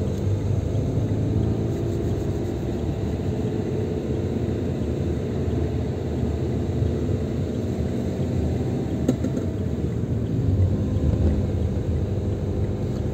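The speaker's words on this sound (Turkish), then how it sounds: "Motorun belli bir dönme periyotu var. Gazladığımız zaman bağırmaya başlıyor" A car engine rumbles steadily and broadly as the driver accelerates, a constant droning roar through the whole stretch with no talk over it.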